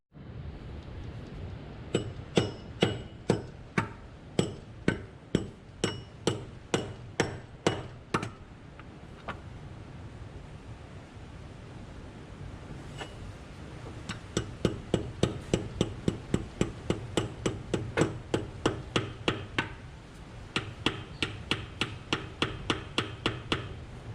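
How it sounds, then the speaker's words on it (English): Rubber mallet tapping the timing gear off a Land Cruiser 79 Series 1HZ turbo diesel during a rebuild: long runs of firm, evenly spaced close knocks, with a brief pause before the tapping resumes. "give it a firm tap with a rubber mallet or something. It might loosen it"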